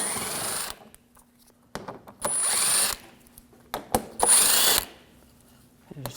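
Power driver with an 8mm socket backing out front upper grille screws on a 2007-2013 BMW 328i, in short whirring, ratcheting bursts separated by quiet pauses, close and moderately loud.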